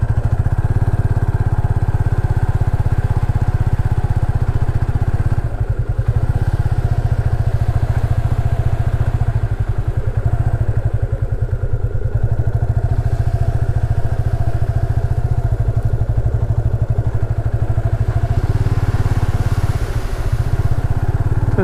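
A motorcycle ridden along a sea beach in Odisha, its engine droning steadily and loudly close up with a low throbbing rumble, occasional clatter and bumps from the sandy ground, no talk.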